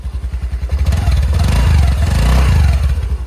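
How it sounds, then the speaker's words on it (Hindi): A Honda Dio 125 scooter's engine and exhaust, close and loud, with a pulsing idle that rises into a revving drone and settles back to a throbbing beat. "इधर सुना देता हूँ डियो का, साइलेंट स्टार्ट मिल जाता है इसमें"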